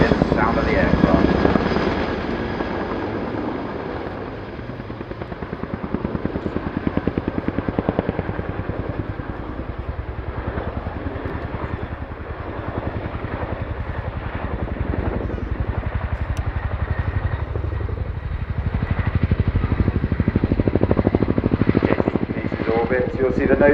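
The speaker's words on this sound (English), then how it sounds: "We're now going to wing the aircraft into a low level 360-degree orbit, giving you a chance to really hear the sound of the aircraft." A military helicopter flies a low-level 360-degree orbit at RIAT 2019, its steady rotor and engine roar filling the air continuously while a commentator talks over it throughout.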